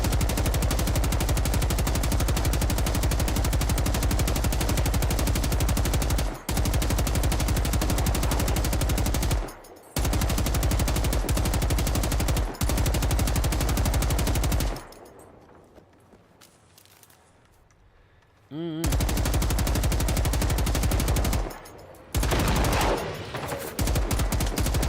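A PKM machine gun in the video game Generation Zero pours long, loud sustained bursts of automatic fire into a horde of enemies, broken by brief pauses and one longer gap of near quiet before firing resumes.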